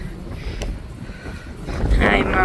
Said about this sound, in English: Oh, why it's so windy.